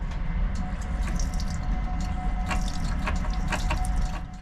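Tap water runs steadily into a small sink in the toilet of an Uzbek high-speed train, a continuous close splashing flow with faint rattling from the moving carriage behind it.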